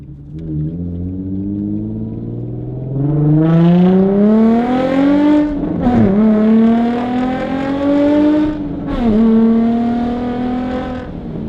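A car engine revs loud and close through a Tomei titanium exhaust, its pitch climbing steadily through long pulls and dipping briefly between them, with no talking.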